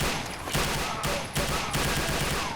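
Rapid gunfire from a weapon in Brutal Wolfenstein v7.0, a mod of Wolfenstein 3D, with repeated bursts of loud shots rattling in quick succession and short gaps between volleys.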